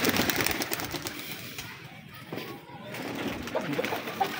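Pigeons cooing softly beside a rooftop loft, a low continuous murmur of bird calls with rustling around it, steady and moderately near.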